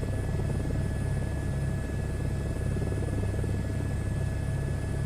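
Helicopter hovering in ground effect in a VR flight simulator game, a steady, continuous rotor drone and engine whine, loud and unbroken throughout with no voices.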